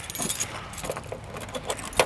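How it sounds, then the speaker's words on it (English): A set of keys jangles in a hand while someone unlocks a door in a garage workshop, giving a few light metallic clinks and rattles spread over about two seconds at a moderate, close level. "I got the keys."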